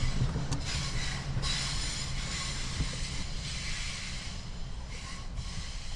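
A Long Island Rail Road diesel train with DM30AC locomotives rolls past at Huntington, giving a steady rumbling roar with rhythmic hissing surges that stays fairly constant throughout.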